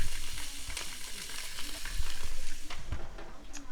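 Fish sizzles and crackles as it roasts in a piping hot oven under the top heat with sake, a steady close frying hiss with small popping bursts and no talking.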